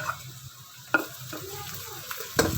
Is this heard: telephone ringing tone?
no